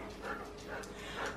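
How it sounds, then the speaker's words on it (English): Puppies pant and give small whimpering yips, soft and close, in short repeated bursts. "Funny puppies."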